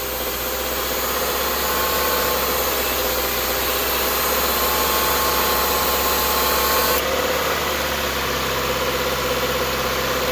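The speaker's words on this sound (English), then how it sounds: "that compressor should stay running right now" Subaru engine idles steadily with the air conditioning compressor engaged, producing a loud, constant mechanical drone with a slight shift in tone partway through.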